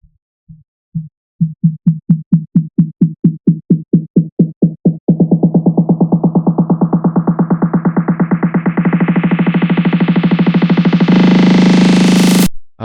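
FL Studio electronic build-up: a repeating synth hit accelerating from sparse pulses into a rapid roll, an automated low pass filter steadily opening so the tone brightens and rises in pitch, ending abruptly.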